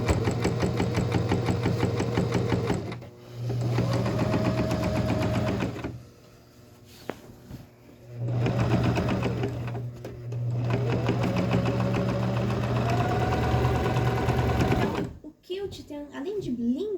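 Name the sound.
sewing machine quilting along a patchwork seam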